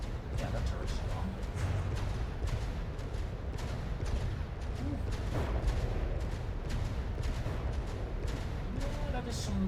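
Battleship turret artillery in the naval combat game From the Depths, a dense, continuous barrage of booming gunfire and rumbling blasts that stays loud throughout, with a voice speaking over it.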